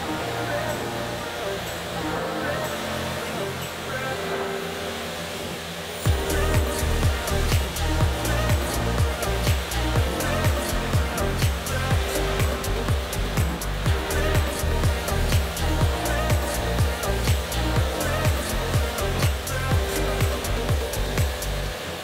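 Water spray washing a grimy barn-find Honda Prelude, a loud steady hiss that shifts after a few seconds into a harder, rhythmic pulsing spray, close up with no speech.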